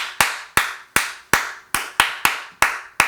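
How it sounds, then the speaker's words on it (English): Nine sharp hand claps ring out alone at a fairly steady pace, each crisp and close with a short decaying tail. "Those were all good claps"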